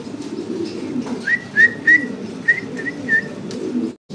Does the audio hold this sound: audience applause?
no